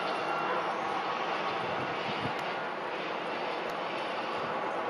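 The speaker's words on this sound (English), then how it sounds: "That plane over there" An airplane passes overhead, heard as a steady, distant engine roar that holds for about five seconds at a moderate, even level, with no other clear sounds.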